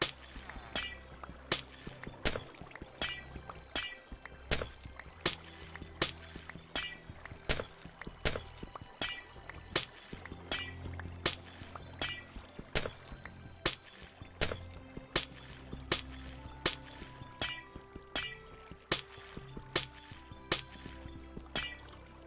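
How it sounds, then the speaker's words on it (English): Glass blocks shattering in Minecraft, sharp crashes with tinkling shards repeating at a quick, steady rhythm over game music with sustained tones, loud and close throughout. "the sound of the glass breaking with like this Terraria music"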